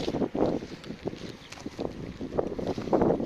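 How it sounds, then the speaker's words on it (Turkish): Gusty wind buffets the microphone in low, rumbling bursts that rise and fall over a few seconds, with no talk. "İyi rüzgar var yalnız arkadaşlar."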